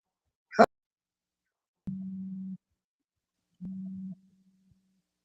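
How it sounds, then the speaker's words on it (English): A mobile phone gives two separate low, steady buzzing tones, each lasting under a second, after a short click, with silence in between. "that's my phone. I ain't gonna answer it."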